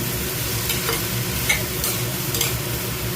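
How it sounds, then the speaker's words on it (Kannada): Ridge gourd stir-fry sizzles steadily in a pan, a dense close-up frying hiss with a few soft scrapes of stirring breaking through. "ನೋಡಿ, ಚೆನ್ನಾಗಿ ಫ್ರೈ ಮಾಡಿದ್ದೆ."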